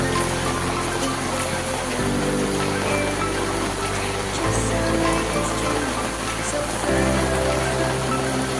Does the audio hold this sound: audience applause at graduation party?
no